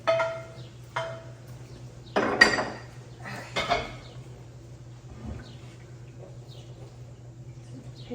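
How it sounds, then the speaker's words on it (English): A heavy pot of goat's milk for cheese being handled, giving a few sharp metallic clanks and knocks spaced out over several seconds, followed by quieter faint rattles against a steady low hum. "This pot is so heavy."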